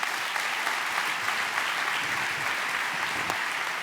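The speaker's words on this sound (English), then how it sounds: "Can we please give a big round of applause for Hasani Pettiford?" A crowd applauds to welcome a speaker at a forgiveness-themed evening event, dense continuous clapping at moderate volume, steady from start to finish with no voices.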